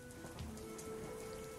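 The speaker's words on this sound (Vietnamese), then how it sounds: "Trên mái ngói rêu phong, tiếng mưa lột bột bắt đầu vang lên, rõ dần từng khác." Rain falling on a mossy tiled roof, a faint, steady patter of drops with a low continuous hum beneath, no voices.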